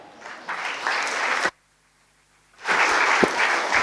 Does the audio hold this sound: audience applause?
yes